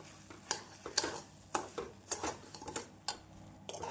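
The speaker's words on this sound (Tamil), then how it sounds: "தேனி நன்றாக கரைந்து பாதாமுடன் மிக்ஸ் ஆகும் வரை நாம் கிளறி கொண்டே இருக்க வேண்டும்" A spoon scrapes and knocks around a pan of almond halwa with sugar, producing soft, irregular clinks and scrapes at a fairly quiet level, roughly every half second.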